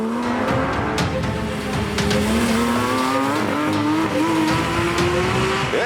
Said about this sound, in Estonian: vabalt hingav kõrgepöördeline võidusõidumootor